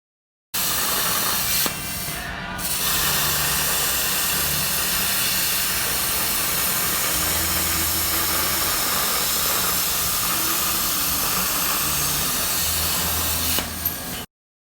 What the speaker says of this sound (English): I'm gonna plasma cut up the washers on the CNC